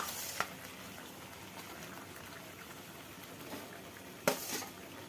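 Pointed gourd (potol) cooking in a pan for Bengali sorshe potol: a soft, steady sizzle and bubbling, faint and close, broken by two brief clinks or splashes at the start and near the end.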